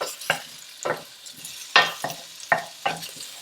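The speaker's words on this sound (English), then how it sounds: "And what I'm looking for here is it to start crackling instead of sizzling like it is." Bacon and pancetta in a hot pan give bursts of sizzle each time they are stirred, about six separate hissing surges spaced under a second apart, close and fairly quiet with no talk.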